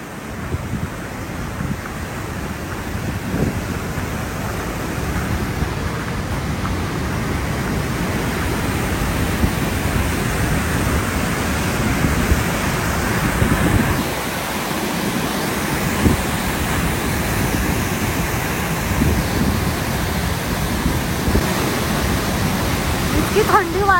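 Waterfall of ice-cold water pouring down in freezing weather, a steady loud broadband rush that fills the whole stretch without pause, close by and continuous.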